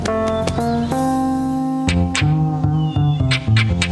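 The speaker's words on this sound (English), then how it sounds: "Here, kitty, kitty, kitty." A cat meows repeatedly in several separate close, clear calls with short pauses between them, heard on its own without any talking over it.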